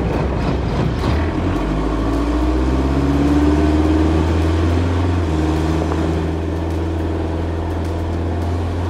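Diesel engine of a right-hand-drive Jeep TJ under hard acceleration, a loud steady drone whose pitch climbs gradually as revs build, with the note shifting near the middle, heard from inside the cabin with no talking.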